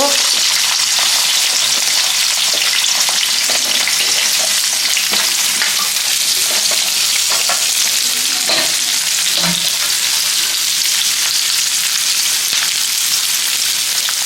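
Garlic, green chillies and onions fry loudly in hot oil in a pan for a drumstick-leaf egg fry, a dense continuous sizzle with occasional pops and stirring scrapes, no voices.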